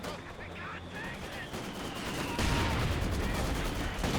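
An infantry squad fires in a Company of Heroes 2 battle, with rapid rifle and machine-gun bursts crackling in a dense stream that swells louder midway, alongside other battlefield noise.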